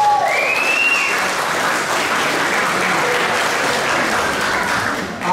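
Loud, continuous audience applause rings out at a high school junior prizegiving, holding steady close-up for several seconds, with a short whoop near the start.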